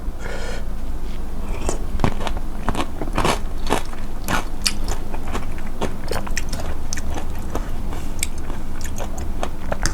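Grapes bitten and chewed up close, with sharp wet crunches and crackles repeating in an irregular rhythm over ten seconds, loud and alone with no talking.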